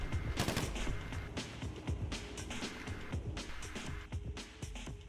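Assault shotguns fire in GTA V Online during a casino heist mission: rapid, loud bursts of booming shots crack over continuous game noise and clutter for the full five seconds.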